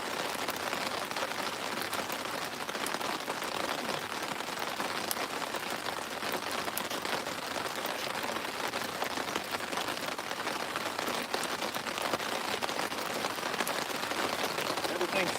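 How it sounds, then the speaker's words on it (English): Steady rain falls without pause on a boat and its surroundings, a dense even hiss of countless drops close by, holding level for the whole stretch with no other sound standing out. "So I'm probably gonna end up wet, but it's already raining."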